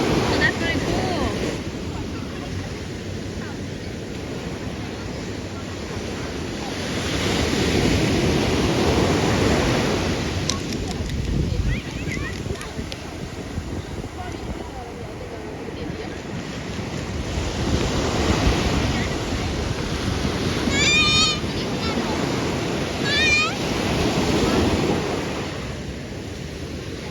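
Surf rolls onto a beach under steady wind: a continuous broad wash with slow swelling surges, and gusts buffeting the microphone. A few faint high chirps come through near the end.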